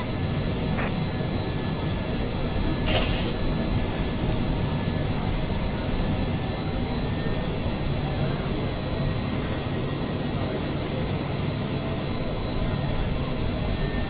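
Simulated MD-11 jet engines in MSFS2020 give a steady, loud broadband roar with a faint whine as the airliner taxis onto the runway, the drone unbroken throughout and a voice occasionally audible beneath it.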